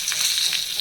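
Steady crackling sizzle of curry leaves tempering in hot oil, loud and close, with no voices.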